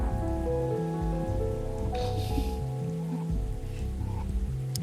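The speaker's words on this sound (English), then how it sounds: "I love the music and the rain sounds." Steady rain patters in the video game Necrobarista, a soft continuous hiss sitting under a looping musical score with gentle melodic notes.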